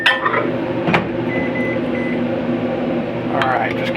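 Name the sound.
microwave oven running and beeping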